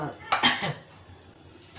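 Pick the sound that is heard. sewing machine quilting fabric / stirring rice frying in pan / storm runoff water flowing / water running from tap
stirring rice frying in pan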